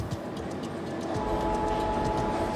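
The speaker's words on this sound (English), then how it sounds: "Just waiting for the subway." A subway train rumbles steadily in a Splatoon video game trailer, a dense continuous roar of rail noise with faint clatter, loud and unbroken, with no talk.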